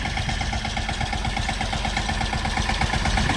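A steady tractor engine idles and runs continuously during groundnut sowing, with a low rhythmic thrum and mechanical vibration throughout, close and loud.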